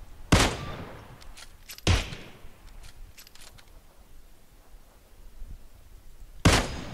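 Gunfire in the video game PUBG: three sharp, loud single shots spaced several seconds apart, with fainter clicks and handling noises between.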